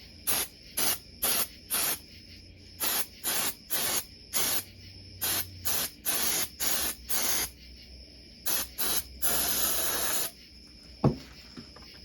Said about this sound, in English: Right now I'm just going to take some brake clean to this piece.